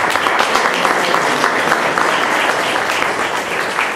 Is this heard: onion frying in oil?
no